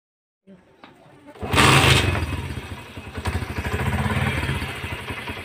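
Motorcycle started up after an oil change: after a brief faint voice and a thump, the engine catches and runs loudly and close, a steady throbbing idle with slight revving.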